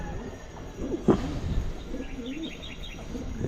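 Domestic pigeons kept in a loft give soft, low cooing calls that rise and fall through the moment, with a few faint higher chirps and steady background noise.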